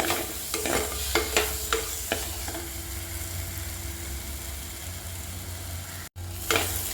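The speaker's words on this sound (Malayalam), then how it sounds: "ചേർത്ത് സ്ലോ ഫ്ലെയിമിൽ തന്നെ നമുക്കിതിനെ വഴറ്റിയെടുക്കാം" Bitter gourd sizzles steadily in a hot pan over a low flame while a spoon scrapes and stirs it in a few sharp strokes.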